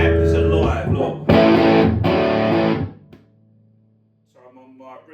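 Gibson Les Paul electric guitar played on the neck pickup through an amp, giving thick distorted chords: a first strum, then two heavier hits that ring and decay into a low sustain, with a brief faint voice at the end.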